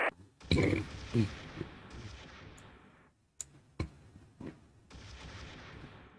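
A StuG tank fires on Soviet troops in the World War II strategy game Close Combat III. Sharp gunshots and heavier cannon-like reports crack out irregularly, some close and some distant, fading between bursts.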